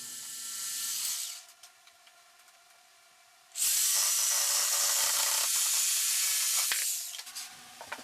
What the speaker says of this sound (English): I can cut out the toe kicks using a square and a jigsaw.